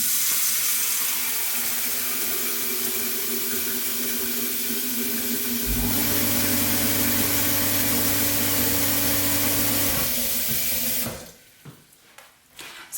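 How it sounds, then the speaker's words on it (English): A household water pump in a Svalbard cabin runs loudly alongside steady rushing water from a tap, kicking in with a deep droning hum midway as it delivers a fresh push of water, then stopping abruptly before the flow fades out. "you can hear the pump very loudly when it gives you a new push of water"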